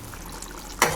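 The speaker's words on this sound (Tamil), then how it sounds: "இது லைட்டாக கொதிக்க ஆரம்பிக்குது பாருங்கள்" In a pan on the stove, a tamarind mixture with turmeric and chilli powder, cooked for temple-style puliyodharai, is just beginning to boil. It makes a soft, close bubbling, and a brief clatter of stirring comes near the end.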